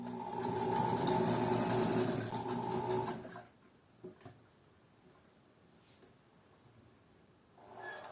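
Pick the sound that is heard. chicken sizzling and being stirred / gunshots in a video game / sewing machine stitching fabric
sewing machine stitching fabric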